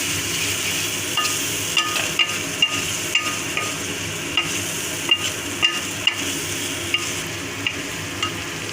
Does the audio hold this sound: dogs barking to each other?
no